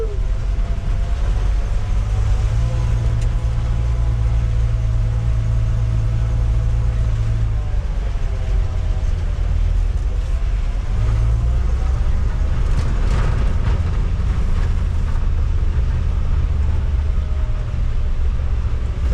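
A 1952 Dodge B3B truck drives in a tall first gear, its engine a loud, continuous low rumble and drone, rising and falling slightly in pitch as it pulls along, heard close from inside with no talk.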